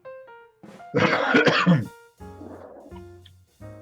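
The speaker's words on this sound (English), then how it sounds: "I heard that cough." A harsh, loud cough burst in the middle, followed by a rougher throat-clearing sound, with brief tonal sounds before and after.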